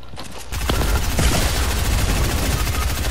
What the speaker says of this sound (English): I'm gonna try to snipe him.